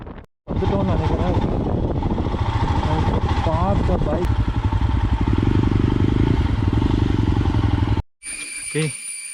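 A Royal Enfield Himalayan motorcycle engine idles close by with a steady, rhythmic thumping beat, at first mixed with voices and clatter, then running alone before it cuts off abruptly.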